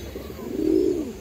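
A pigeon, one of a large-sized pair offered for sale, gives a single rising, throaty coo that swells and fades over about a second, close and clear against a low background hum.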